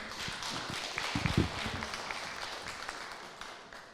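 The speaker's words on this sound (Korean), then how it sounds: "박수 부탁드립니다" An audience at a peace-forum event gives a thinner, uneven round of applause before a former minister's speech, scattered claps with a few louder close hits early, tapering off gradually.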